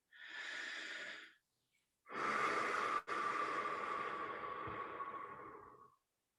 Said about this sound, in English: And take a deep breath.